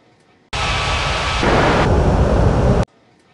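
Jet engine roar of an airliner landing at Ngurah Rai Bali International in Unmatched Air Traffic Control, a loud, dense rush that begins suddenly, swells slightly midway and stops sharply after a little over two seconds.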